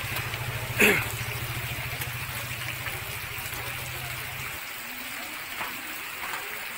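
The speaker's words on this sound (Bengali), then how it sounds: "একটা মোটর সাইকেল আসছে বৃষ্টির ভিতরে" A motorcycle engine idles and rumbles nearby in steady rain for several seconds before cutting out, leaving the hiss of falling rain and flowing water alone.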